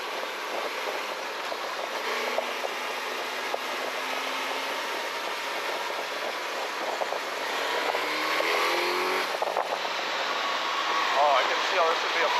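A Suzuki GSX-S1000GX+ motorcycle engine hums steadily while riding, with wind rush and rising and falling revs beneath someone talking throughout.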